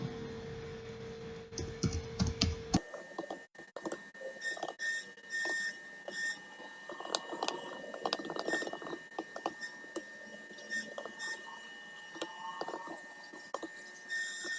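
Typing on a computer keyboard, a series of faint, irregular light key clicks in a quiet room after a brief burst of other noise.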